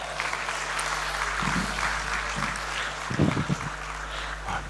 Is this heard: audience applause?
yes